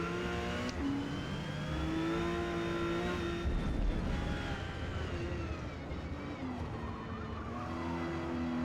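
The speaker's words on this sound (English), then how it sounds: "here comes that McLaren again" A McLaren race car roars past in Forza Motorsport R class racing at Mid-Ohio, its engine note rising and falling against steady car engine drone, loud and continuous throughout.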